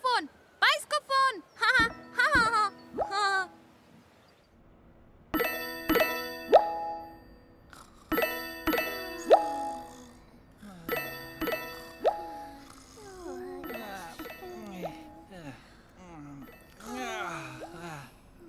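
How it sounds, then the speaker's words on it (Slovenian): Teletubbies Tubby phone ringing with bright bell-like dings and tinkling chimes in repeated bursts, mixed with cartoon plops and jingly musical tones over several seconds, with children's voices chattering between them. "Potem je Lili slišala zvonjenje. Bil je bajskofon."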